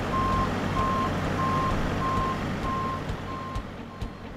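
A truck's reversing alarm beeps steadily in a regular on-off rhythm at an egg farm, with a low engine rumble beneath and no talk.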